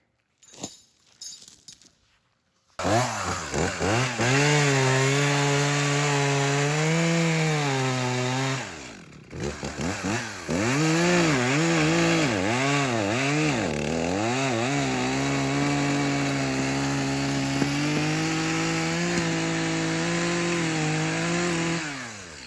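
A chainsaw roars steadily while cutting wood, its pitch rising and dipping with the load, after a few brief knocks at the start.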